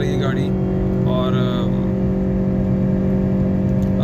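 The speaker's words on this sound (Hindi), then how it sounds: "स्पोर्ट्स मोड के अंदर है, स्टार्ट कर रहा हूँ मैं 0 to 100 इसका चेक कर लें आप" A 2021 Honda City 1.2L with a CVT accelerates hard from rest in sports mode. A constant, loud engine whir and drone fills the cabin, with no gear-shift breaks, while someone talks over it.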